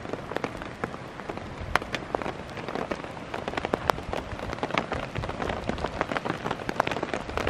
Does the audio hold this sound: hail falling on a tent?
yes